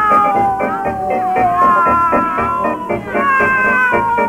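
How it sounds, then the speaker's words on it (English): Several cats meow and caterwaul loudly, their wavering, rising and falling yowls overlapping continuously over a dense background. "It was meow, meow, such caterwauling night and day"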